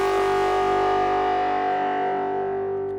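A synth tone processed with heavy, gritty distortion and a dirty, washed-out reverb, holding a steady bright drone for about three seconds and slowly fading, loud and alone with no voices.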